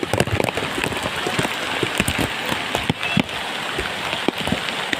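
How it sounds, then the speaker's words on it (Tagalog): Heavy rain pours steadily during flooding on a road in Caloocan City, a dense close patter of drops drumming on surfaces, loud and continuous with no voices. "Talagang grabe, patuloy ang pag-ulan."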